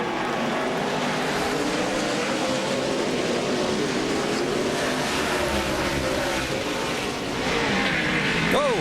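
Race cars roar through the last lap at Montreal, a dense, continuous engine drone with shifting pitch sweeps, close and loud, a commentator talking over it.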